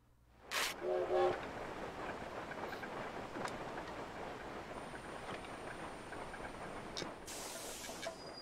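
A train rumbles along a jungle railway in the video game Yoshi's Crafted World, a continuous rolling hiss and clatter with a few sharp accents, heard beneath other game sounds and occasional voices.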